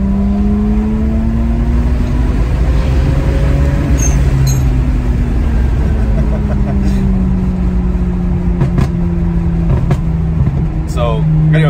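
A BMW 335i drives along with a steady engine drone and slowly shifting tonal hum, a loud, constant road rumble inside the car, and a person talks over it.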